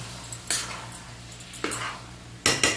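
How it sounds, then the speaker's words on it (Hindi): Grated carrots roasting in ghee for gajar ka halwa, stirred in a pan, give three separate bursts of scraping and sizzling, each a short stroke of the spoon against the metal, spaced about a second apart over a low steady hum. "थोड़ा थोड़ा घी डालकर इसको अच्छी तरह खूब भूनेंगे जब तक ये बिल्कुल ना सूख जाए"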